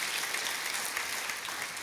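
Steady applause from a church congregation honouring hospital chaplains, a continuous wash of many hands clapping, even and moderately distant with no talk over it.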